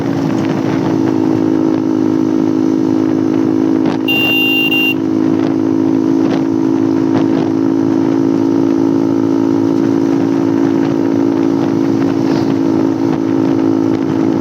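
A KTM Duke 200 motorcycle with an Akrapovic exhaust drones steadily and loud, close for the whole stretch, a constant low rumble with a brief high electronic tone near the start.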